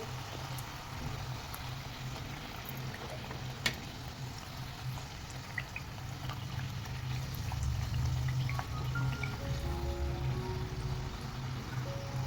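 Pumpkin gharge frying in hot oil over high then medium flame, a steady low bubbling and sizzle that swells slightly toward the end, with a few faint clinks, no talk.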